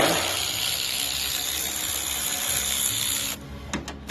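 Ratchet wrench loosening a 10 mm bolt on a 2017 Chevrolet Tahoe headlight, a steady close buzzing clicking run for over three seconds, then stopping with a few short clicks.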